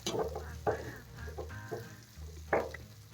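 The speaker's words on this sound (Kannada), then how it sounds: "ಇದು ಆಲ್ರೆಡಿ ಎಣ್ಣೆ ಅಂಶ ಇದೆ, ಫ್ರೈ ಆಗ್ತಾ ಇದೆ" Bitter gourd frying in oil in a pan, a steady low sizzle with intermittent stirring scrapes and clatters, close and moderately loud, no speech.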